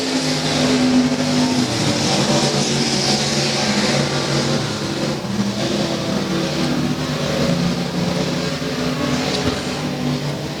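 Race cars roar around the oval at Rose Bowl Speedway, a steady loud engine drone with revving passes, continuous throughout with no pauses.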